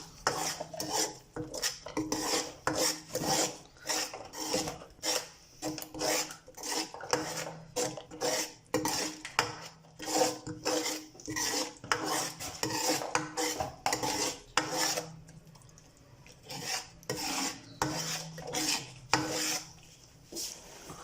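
Turmeric, red chili and salt are stirred into yogurt lassi for kadhi: a spoon scrapes and clinks against the bowl in quick, steady rhythmic strokes for about twenty seconds, close and fairly quiet, no talk.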